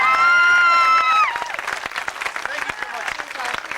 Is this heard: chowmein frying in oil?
no